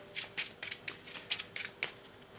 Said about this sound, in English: So I've shuffled.